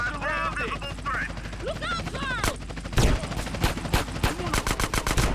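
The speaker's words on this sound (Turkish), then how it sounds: "Bekle Uzi'yi de sıkayım ben bunu." Bursts of rapid automatic Uzi gunfire in GTA San Andreas crackle in quick succession during a bank robbery, with a steady helicopter engine drone and tonal game sounds underneath; the shots grow denser toward the end.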